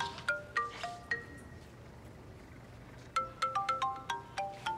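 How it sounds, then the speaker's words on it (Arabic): A mobile phone ringtone plays a bright, repeating melodic pattern, a few tones, a pause, then a longer run of notes, fairly quiet and clear with no talk. "ده صوت تليفوني."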